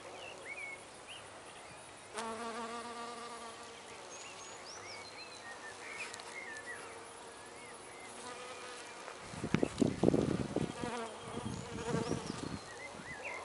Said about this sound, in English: the honeybee's not quite extinct yet